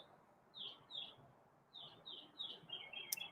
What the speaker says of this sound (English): Chirpy is proving to be a pretty smart bird brain